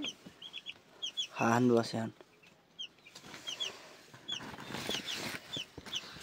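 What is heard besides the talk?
chickens and chicks clucking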